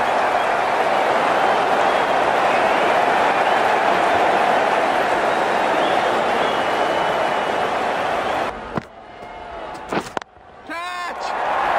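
A continuous roar of a stadium crowd cheering during a one-day international in Cricket 19 on PS4, dense and loud for most of the stretch, then cutting out into brief in-game sounds near the end.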